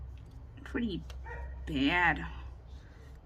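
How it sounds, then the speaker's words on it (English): A dog gives a few barks and yips under a nearby person's quiet speech, moderately close in a quiet indoor room. "you can hear my dog barking."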